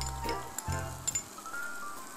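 Chopped garlic hits a hot pan of browning tofu and chopped onions, giving a close, steady sizzle of frying with a few soft stirring knocks.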